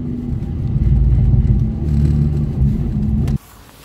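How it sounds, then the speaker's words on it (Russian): A VAZ 2111 with a loud modified exhaust rumbles close by while driving in a small group of cars, a deep continuous drone that cuts off abruptly near the end. "И я на спарже с диким выхлопом."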